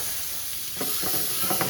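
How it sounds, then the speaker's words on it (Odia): Eggs fry in a pan with a bright, steady sizzle, joined near the end by a few stirring scrapes, with no talking. "ଫାଇନାଲି ଆମର ଅଣ୍ଡା ଭଜା ହେଲା।"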